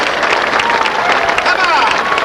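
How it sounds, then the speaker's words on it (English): Audience applause with some cheering at the USS Hornet recommissioning ceremony, held on the aircraft carrier in 1998: dense, steady clapping from a large crowd, loud and sustained throughout. "How about a big round of applause for Buzz Aldrin?"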